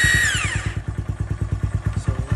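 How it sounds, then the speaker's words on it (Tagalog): A small motorcycle engine with a converted electric starter cranks with a high whine, then catches and settles into a steady, loud, close idle with rapid regular pulses. "nadirin niyo po kung gaano kalakas yung starter na kinonvert ko"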